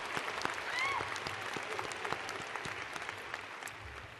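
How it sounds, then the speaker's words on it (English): Commencement audience at a School of Public Health spring ceremony applauding graduating masters students, a dense, steady round of clapping that tapers slightly toward the end, with a brief whistle-like tone early on. "Again, a round of applause for the Masters of Arts, Masters of Health Administration, Masters of Public Health, and the Masters of Science students."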